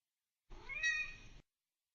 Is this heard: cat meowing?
yes